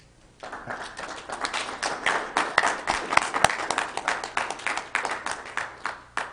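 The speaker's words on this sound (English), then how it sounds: "if you'll join me in giving them a round of applause" An audience at a Weber County public meeting breaks into a round of applause, individual claps sharp and close, building quickly after a brief quiet start and holding steady.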